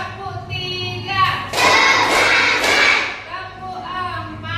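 Children clap their hands in a classroom counting ice-breaker, three quick bursts of group clapping between spoken counting, close and fairly loud.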